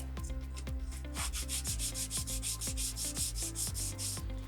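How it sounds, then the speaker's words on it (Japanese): A plastic sheet canopy for a C64-1 overland custom RC car is sanded by hand in quick, even back-and-forth strokes, a close, rhythmic rasping that repeats about four times a second. "こう磨くべきところはちょっと磨いておきます"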